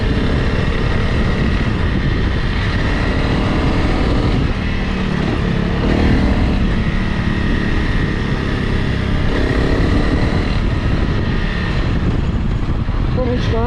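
Honda CRF Rally motorcycle ridden off-road by a beginner, a loud continuous engine drone with rumbling, rattling noise from the terrain throughout, close to the microphone.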